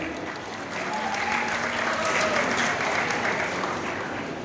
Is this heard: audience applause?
yes